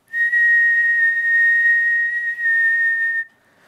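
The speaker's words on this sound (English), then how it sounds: "For instance, I'm going to whistle." A single steady whistle blown into a microphone at a stage floor wedge monitor, holding one clear high pitch for about three seconds before cutting off, loud and alone with no talk.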